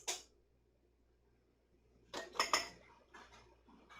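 Spoon and ladle clinking against glass jars as simmered beets are scooped in for pickling; a lone tap, a pause, then a quiet cluster of clinks and scrapes nearby.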